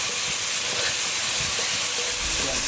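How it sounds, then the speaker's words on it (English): Fish fries in a very hot pot, giving a loud, steady, dense hiss of spitting oil, close up with no voices. "As you can see, guys, the pot is well hot. So give this a little bit of frying"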